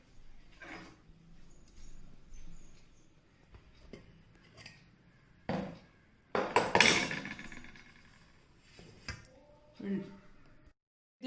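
A cooked mixture being moved from a covered pan into a large plate in a home kitchen, with metal utensils scraping and clinking against the cookware in scattered bursts amid quieter stretches.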